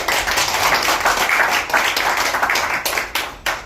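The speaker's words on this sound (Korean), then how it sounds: "박수 한번 다시 한번 주겠습니다" Audience at a year-end club inauguration ceremony claps for the chairman: dense, steady applause from a full room, loud and continuous throughout with no voices on top.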